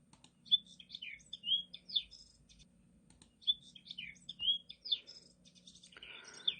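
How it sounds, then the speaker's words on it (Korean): Clear, sweet birdsong in two matching phrases of quick whistled notes, against near silence, with a soft rustling patter at the end. "그때 어디선가 아름다운 새소리가 들려왔어요."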